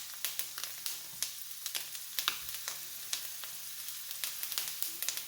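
Lion's mane mushrooms fry gently in a skillet over low heat, giving a soft, steady sizzle scattered with small crackles and pops that continues throughout, close by and with nobody talking.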